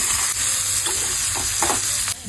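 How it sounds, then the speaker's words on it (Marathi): Mustard seeds, asafoetida, turmeric and white sesame crackle in hot oil as a tempering for a wild kartoli vegetable dish, a loud close sizzle with a few spatula scrapes and no speech. "साधी फोडणी करायची मोहरी हिंग हळद तीळ"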